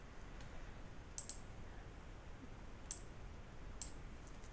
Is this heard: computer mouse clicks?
yes